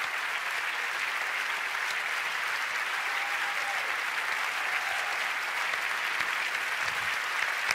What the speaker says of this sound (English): Please don't stop applauding, because these are the European Shooting Stars 2018.